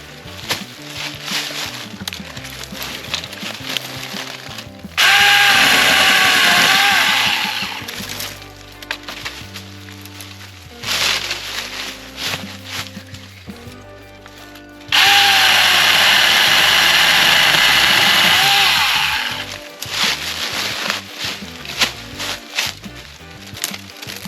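A Seesii battery-powered saw cuts through trees in the woods, two loud sustained bursts of whining motor and ripping wood, each lasting about five seconds, separated by quieter stretches of handling noise.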